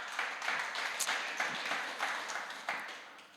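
A church congregation claps during a worship service, a fairly sparse and soft patter of hands with a few louder beats at a roughly regular rhythm, heard from a distance in a reverberant room.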